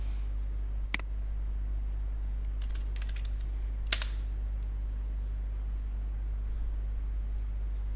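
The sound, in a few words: typing a ping command on a computer keyboard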